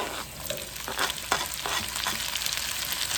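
Fresh tomato goes into a pan of cooked garlic for a tuna pasta, and a steady soft sizzle of frying carries through with a few stirring scrapes, with no voices.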